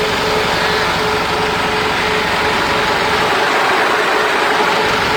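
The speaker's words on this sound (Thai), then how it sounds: "ตอนนี้เครื่องยนต์ติดเรียบร้อยแล้วนะคะ" A steady, loud Isuzu D-Max 3.0 diesel engine fitted in a Mitsubishi 4WD idling close by, a continuous low rumble with a constant mechanical drone and no voices.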